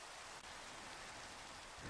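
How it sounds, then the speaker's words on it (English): Steady, even hiss of rainfall in the Minecraft game world, a constant broadband wash of falling drops with no breaks, alone without any voices. "the rain is great"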